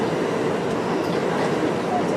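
Steady rumbling interior noise of a moving train, a continuous dense roar with faint rattling and no distinct breaks.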